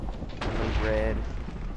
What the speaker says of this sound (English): whenever you right click on the sword, it will create a loud explosion noise